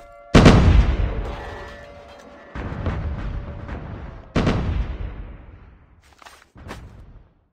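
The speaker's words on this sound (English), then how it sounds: "Airstrike, get out." Heavy airstrike explosions in Call of Duty Mobile battle royale: several loud booming blasts arrive a second or so apart, each with a long rumbling decay, followed by fainter distant gunshots near the end.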